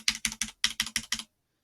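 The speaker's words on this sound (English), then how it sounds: "It's my mechanical keyboard." Seven sharp, evenly spaced clacks of keys on a mechanical computer keyboard sound close and crisp, then stop into silence.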